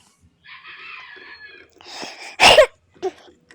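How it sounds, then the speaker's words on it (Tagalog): A short, sharp cough bursts out after some muffled background sounds, followed by a smaller second cough, close to the microphone. "Sorry guys, inuubo ako."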